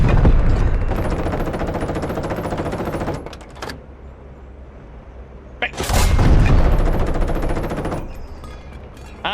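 Rapid automatic gunfire and explosive blasts ring out in a combat video game while a player shoots through a house roof, loud bursts broken by a quieter pause and then another heavy boom.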